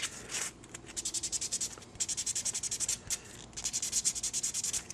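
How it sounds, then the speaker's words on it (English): Light sandpaper rubbing on a small part of a 1:100 scale model kit in quick, even back-and-forth strokes, soft and close, in a few steady runs with brief pauses between. "Just a real quick light sanding"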